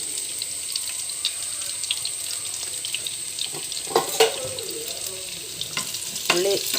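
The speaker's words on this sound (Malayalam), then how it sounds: "കടുക് ഇട്ട് കൊച്ചുള്ളി ഇട്ട് കടുക് വറുത്ത്" Mustard seeds and small shallots fry in hot oil for a tomato curry, giving a steady close sizzle with scattered sharp crackles and pops, plus a few clinks of a utensil.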